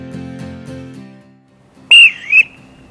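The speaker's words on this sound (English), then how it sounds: "A whistle is always a great thing to have in your bag." After a few muted tones, a shrill whistle is blown twice in quick succession, loud and close.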